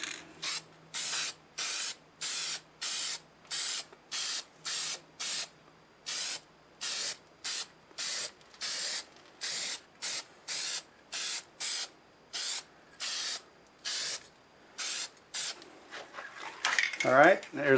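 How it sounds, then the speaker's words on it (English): Bursts of lacquer finish from a spray gun onto a turned wooden bowl, roughly twenty short hissing blasts in a steady rhythm with brief pauses between, close and clear. "It's time to put the finish on, and I'm going to spray lacquer on."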